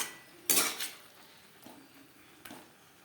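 A spoon scraping and clinking against a pan while stirring banana stem curry, one clear knock followed by a couple of fainter taps over a quiet background, with no talk.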